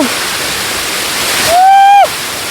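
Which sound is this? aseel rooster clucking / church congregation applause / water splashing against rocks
water splashing against rocks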